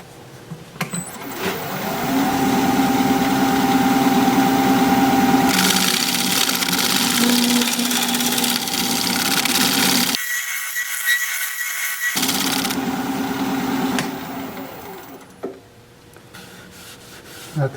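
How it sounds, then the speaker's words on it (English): Wood lathe spinning apricot wood while a tool shear-scrapes the surface, a steady close rubbing hum with a brief cut in the middle before the scraping resumes and trails off. "So we'll do a little more shear scraping."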